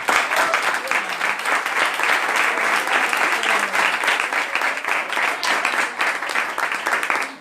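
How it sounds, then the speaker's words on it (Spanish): A large audience applauds during a church talk, with dense, steady clapping that stays loud and continuous throughout, and no voices rising above it. "Un aplauso."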